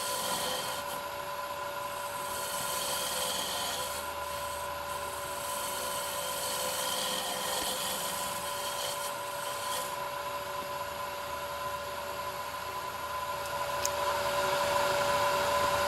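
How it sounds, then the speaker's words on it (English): A woodturning lathe spins while a gouge hacks away timber to shape a goblet stem, giving a steady whirring hum layered with a continuous scraping, rasping cut that swells and eases as the tool moves. "hacking out some timber just to get down to, we'll start getting down to the stem size"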